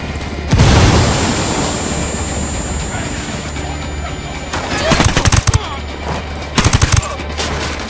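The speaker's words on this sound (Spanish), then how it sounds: "Granada, toma." A grenade blast and gunfire in the video game Ghost Recon Wildlands: a heavy boom, then sustained rifle fire with a dense burst of rapid shots near the end, under occasional voices.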